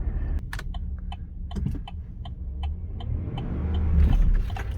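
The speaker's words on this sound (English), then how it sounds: "a lot of shuddering, and when we get to the stop sign, you'll probably see how it revs before it goes" A 2018 Chevrolet Silverado pickup with a failing transmission idles with a low, uneven rumble, then revs up and shudders, the engine growing louder toward the end, with intermittent clicks and knocks over it.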